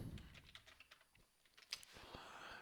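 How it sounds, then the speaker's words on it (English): Rapid, faint clicks of typing on a computer keyboard close by, with irregular keystrokes running for a couple of seconds over a hissy background. "I'm gonna be typing in the background a little bit"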